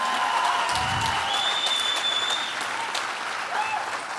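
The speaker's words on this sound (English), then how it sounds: "let's give both these ladies a massive round of applause for a wonderful fight that they put on" Crowd applause fills the arena after a women's bout at a TFP 5 fight event, a steady dense wash of clapping that holds loud throughout, with a brief low thump near the start.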